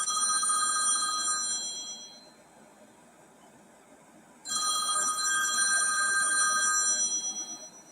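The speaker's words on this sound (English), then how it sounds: "I just got a buzz on my phone" A mobile phone rings with an incoming call in two bright electronic ringtone bursts separated by a quieter pause, loud and close with no talking.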